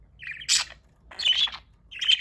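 Budgie parakeets chirp in three short, bright, scratchy bursts, close and fairly loud, with no voices over them.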